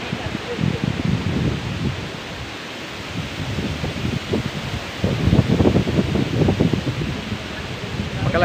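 Strong, cold wind roaring and buffeting steadily at a waterfall, with rustling gusts that swell and fade; faint voices may sit beneath the noise.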